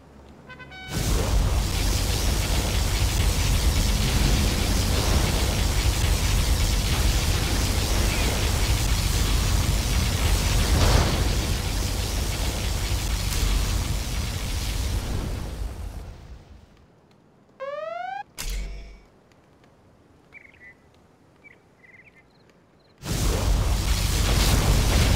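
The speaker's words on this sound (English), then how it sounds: "Particle cannon activated." A particle cannon firing in the strategy game Generals, a long, loud roaring blast of dense noise that stops abruptly, then short electronic tones and a burst of noise before the roar returns.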